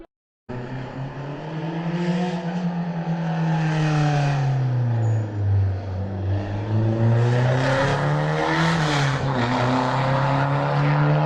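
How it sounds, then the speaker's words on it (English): Rally car roaring past on a closed public road in France, engine note loud and close as it revs, with the pitch falling and rising across the pass and no talking. "there's a car rally on, so I've just been talking to a guy who's trying to redirect me in French, but I just thought I'd watch a few cars through first"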